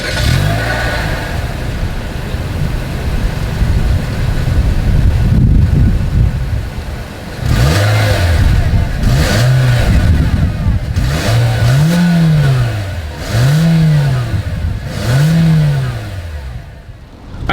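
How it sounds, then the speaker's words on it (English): A 2025 Nissan Versa with a single exhaust idles and then revs repeatedly, with several sharp rising and falling engine bursts heard close up outdoors, some wind noise in the background. "As always, here is that exhaust clip."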